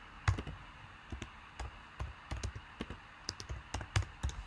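Rapid, uneven keystrokes on a computer keyboard as a bank statement name is typed, a close, dry run of separate clicks and taps with brief pauses between bursts.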